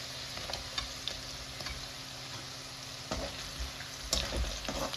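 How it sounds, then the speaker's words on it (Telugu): Garlic frying in hot oil for a methi chicken dish, a steady soft sizzle with occasional scrapes and clinks of a spatula, louder stirring bursts near the end, no voices. "వెల్లుల్లి వేయించాలి"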